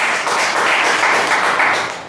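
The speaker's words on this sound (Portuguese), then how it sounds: "Uma linda salva de palmas." A church congregation claps together in a brief, dense burst of applause, loud and close, swelling slightly before fading at the end.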